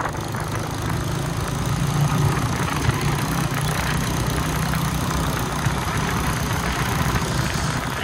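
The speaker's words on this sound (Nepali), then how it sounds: "बाइकमा राइड गरियो।" A motorcycle engine runs steadily throughout, a continuous mid-to-low rumble heard alone at close range while out on a ride.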